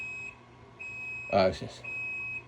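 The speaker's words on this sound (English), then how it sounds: "excuse the beeping noise." A steady high electronic tone beeps on and off, with a brief burst of voices breaking in mid-way.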